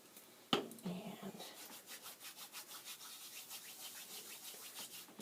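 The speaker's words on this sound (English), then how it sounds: "just rub it in my hands to sprinkle it over" Dried sage rubbed between the palms to crumble over a crockpot turkey breast, a soft dry rustling that starts with a sharp rustle then continues as faint rhythmic rubbing strokes.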